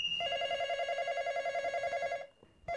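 A phone rings with a fast trilling electronic tone that repeats steadily for a couple of seconds, stops briefly, then starts again, clear and fairly close.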